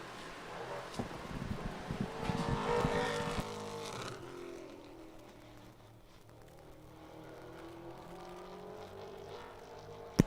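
A race car travels down the back straightaway at Thunder Road Speedbowl during time trials, its engine swelling to a roaring pass for a few seconds before fading into distant, wind-buffeted quiet.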